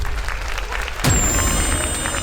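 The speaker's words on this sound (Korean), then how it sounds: "여러분 뜨거운 박수로 5세 대결을" Applause from an arena crowd at a GSL StarCraft II tournament match, faint at first, then surging loudly after a sharp onset about a second in and holding steady to the end.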